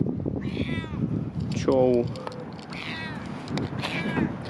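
A cat meows several times in short, rising and falling calls at close range, mixed with people chatting nearby in a lively indoor setting.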